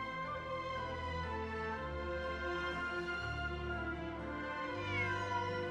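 Cat meowing in the video game Genshin Impact, a drawn-out meow over steady game background music, with no talk.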